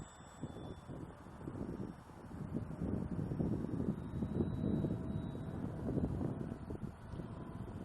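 Gusty wind buffets the microphone at an RC plane flying field, a steady low rumble that swells and fades over several seconds, with no voices and no clear engine sound above the roar.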